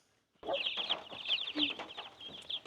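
Chickens cluck and chirp in a dense, continuous chorus close by, starting abruptly after a brief silence, with overlapping soft calls and rustling.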